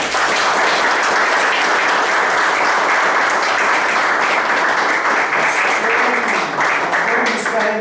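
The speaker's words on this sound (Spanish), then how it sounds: "vamos a darnos un aplauso por esta sesión" Loud, dense applause from an audience at the close of a public philosophy café session in a hospital, continuous and close, with murmuring voices showing through near the end.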